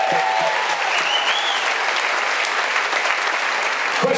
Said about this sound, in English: Big round of applause for the gentlemen.